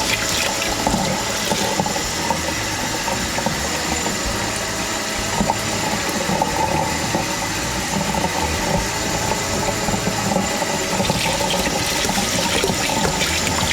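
Tap water running steadily and loudly into a bowl as buckwheat groats are rinsed in a home kitchen, like washing rice, a continuous full splashing gush with no talk.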